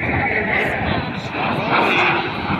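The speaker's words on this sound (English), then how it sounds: "T-33 will fly some aerobatics for us as they wind up" A T-33 jet's engine winds up at an air show as a steady, loud roaring rumble, with an announcer talking over it through a public address system.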